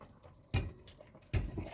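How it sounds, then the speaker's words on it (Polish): About a kilogram of sauerkraut with its sour brine is tipped into a cooking pot of simmering pork knuckles, making two short, close, wet splashes a moment apart in an otherwise quiet kitchen. "Teraz dorzucam kapustę. Około kilograma razem z tą wodą kwaśną."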